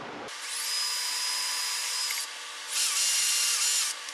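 A steady high-pitched power drill whine runs in two bursts, drilling pilot holes in a cherry wood case, pausing briefly then spinning up again louder, close by with no talking.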